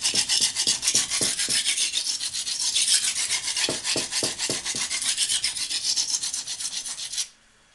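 Steel blade rasping back and forth over an oiled sharpening stone, steady rhythmic strokes close up, with a run of distinct scraping pulses early and again midway, stopping abruptly near the end.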